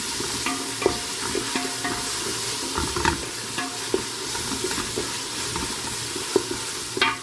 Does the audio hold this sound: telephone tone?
no